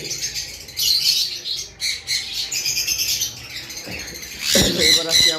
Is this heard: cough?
no